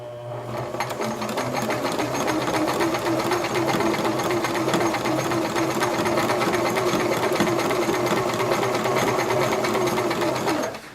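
A sewing machine stitches a seam sample in one continuous steady run of about ten seconds, its rapid mechanical whir loud and close before it stops at the end.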